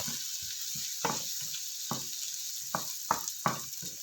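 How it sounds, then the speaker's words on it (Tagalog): Onions and garlic fry in a pan for pork giniling, a steady soft sizzle broken by irregular clacks and scrapes of a spatula stirring, close up and without talking. "Hintayin lang natin mga loves na mag-brown ng ating onions and garlic."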